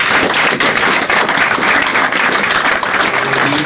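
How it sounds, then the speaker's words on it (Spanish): Loud, dense applause from an audience thanking a professor after a lecture, continuous close clapping throughout with no talk over it. "un aplauso al profesor"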